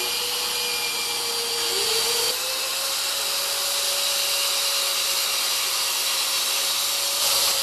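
A PRO 35MINI magnetic drill whines steadily as it cuts through steel, a continuous motor tone with a slight pitch dip, no voices.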